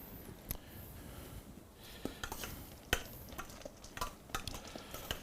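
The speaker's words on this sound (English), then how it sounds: "Give them a nice stir through the butter and the pine nuts." Sprouts stirred through butter and pine nuts in a pan, with soft continuous sizzling and scattered scraping clicks of a utensil against the pan, moderately close and without talk.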